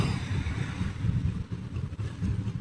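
Boat engines rumble nearby at a busy fishing spot where large boats arrive with open motors, a low, continuous droning hum with some wind buffeting.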